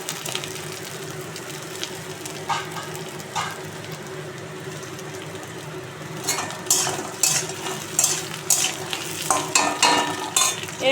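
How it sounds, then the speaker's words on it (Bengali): Okra tossed into hot oil with potatoes sizzles softly in a pan, followed by scraping and stirring strokes that grow louder and more rhythmic toward the end. Everything is close with no talking. "আলু মোটামুটি ভেজে নিয়েছি, এবার আমি ভেন্ডিগুলো ছেড়ে দিচ্ছি।"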